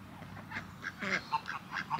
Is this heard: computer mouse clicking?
no